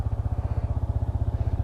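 A 2020 Yamaha XSR 155 motorcycle's muffler idles with a steady, rapid low putter, close and even throughout.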